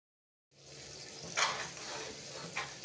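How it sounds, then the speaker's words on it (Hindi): Cream simmering into homemade ghee in a kadhai gives a soft, steady bubbling sizzle that starts after a brief silence, with a couple of brief louder spatters. "देखिए मेरा घी धीरे धीरे उबल रहा है"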